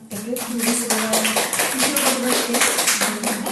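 Audience applause at a presentation in Yakutsk, steady close clapping from a crowd with a voice talking over it at times.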